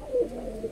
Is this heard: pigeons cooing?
yes